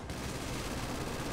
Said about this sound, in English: Oh man, gunshots